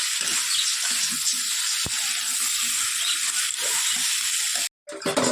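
Large pieces of crab fry with spices in a pan, giving a loud, continuous sizzle and hiss close up, broken by a sharp clink midway and a brief gap near the end.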